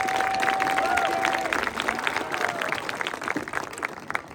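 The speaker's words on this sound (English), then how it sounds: "Let's give them a round of applause." A school community audience at a marching band show claps for two people, a loose scatter of hand claps building after a brief tone at the start, fairly close and uneven, with faint crowd murmur underneath.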